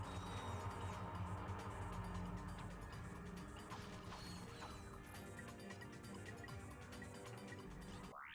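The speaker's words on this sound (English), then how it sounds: "Press square to attach the wrench to the bolt crank." A wrench cranking a bolt ratchet in the Ratchet & Clank: Up Your Arsenal video game gives a steady run of mechanical ratcheting clicks and gear whirs, loud and continuous over a dense game soundtrack.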